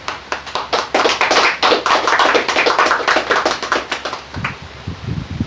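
A church congregation claps together in a loud, rapid burst of applause that fills several seconds, then thins out into a few scattered claps as it dies away.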